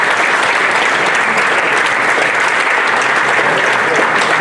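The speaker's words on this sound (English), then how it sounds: "a round of applause please for our recipient Paul" A dense, steady round of audience applause for an award recipient at a football awards event, loud and continuous throughout without a break.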